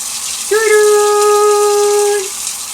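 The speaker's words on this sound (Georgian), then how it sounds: "ბოლომდე ავავსა წყლით." Tap water runs steadily into a pot of green beans, a constant rushing hiss with a sustained, even ringing tone partway through.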